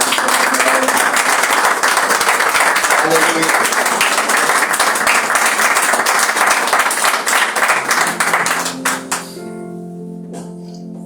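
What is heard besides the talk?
applause for Jesus at a church service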